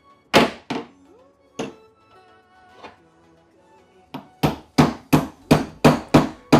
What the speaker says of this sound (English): they often will probably need tap with a hammer to make them seat properly